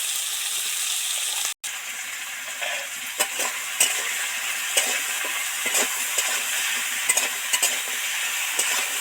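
Steady sizzling of vegetables for a bitter gourd and potato dish frying, salted, fills the clip, broken by scattered scraping stirs in the pan and one brief dropout near the start.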